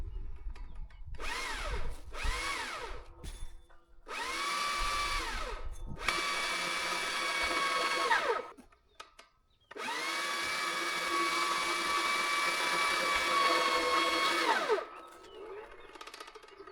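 Motorized winch spooling in a long steady whine, straining as it lifts a 400 kilo stone while building an off-grid house in Portugal, in several separate pulls, loud and close with no talk.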